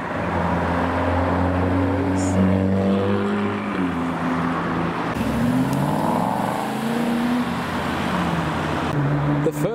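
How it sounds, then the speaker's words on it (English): Nissan GT-R driving past at a drive-through car show in the UK, a steady close engine rumble among other traffic, with the note shifting as it passes. "The first GTR of the day."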